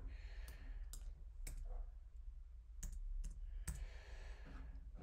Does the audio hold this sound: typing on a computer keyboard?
yes